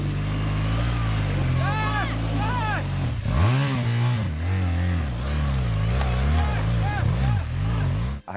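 A BMW motorcycle stuck in soft ground revs and strains as the clutch is let out, its engine note rising and wavering continuously while people shout over it.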